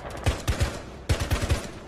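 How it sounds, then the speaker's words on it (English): Rapid gunfire rings out in Rainbow Six Siege: two quick volleys of sharp, punchy shots in a tight rhythm, close and loud. "He's shooting me"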